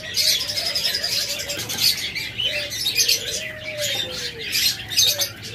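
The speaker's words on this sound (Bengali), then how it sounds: "এটাও রয়েছে ডিম সহ সাদা ঘুঘু" White doves, a pair kept with eggs, cooing in low repeated calls close by, with bright chirps from other birds layered over them throughout.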